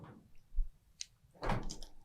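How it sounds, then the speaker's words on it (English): A cooler freezer room door of a 6 hp air-cooled refrigeration system swings shut with a soft thud and a latch click, followed by a louder rolling, rattling close, nearby with no talk. "You can close the door"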